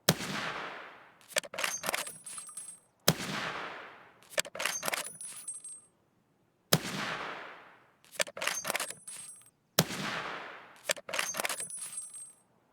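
Four bursts of gunfire in the video game Escape From Tarkov, each a sharp crack with a long decaying echo followed by a rapid cluster of shots, evenly spaced with short silences between, clear and moderately loud with no talk.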